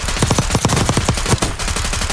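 Rapid automatic gunfire from a Black Ops 6 loadout weapon fitted with an extended magazine, a dense string of loud, close shots firing in quick bursts with no talking.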